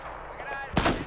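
A sharp gunshot from Battlefield 4 rings out near and loud at the end of a brief moment of quieter in-game ambience.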